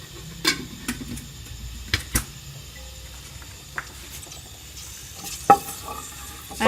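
A spoonful of ghee heats and melts in a pan on the stove, giving a faint steady sizzle broken by a few sharp ticks and clicks, with no voices.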